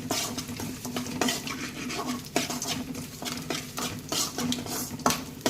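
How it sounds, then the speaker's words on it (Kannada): Cashews frying in oil in a pan for temple-style pongal, stirred with a utensil: steady sizzle under repeated scraping and clinking strokes against the pan, close and fairly loud throughout. "ಗೋಡಂಬಿ ಬ್ರೌನ್ ಆಗೋವರೆಗೂ ಫ್ರೈ ಮಾಡಿ."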